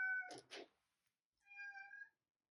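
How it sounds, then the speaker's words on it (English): A cat meows twice indoors, one short call followed after a pause by a longer, drawn-out meow with a clear tonal pitch, close and fairly loud against a quiet room. "Got my cat."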